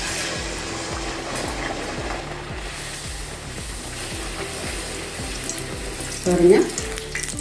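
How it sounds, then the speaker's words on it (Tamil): Rice flour poori dough slips into hot oil and fries with a steady crackling sizzle, which swells into a brief louder burst near the end while a voice speaks quietly. "இப்போ இது எண்ணெய்க்கில் போட்டுக்கலாம்."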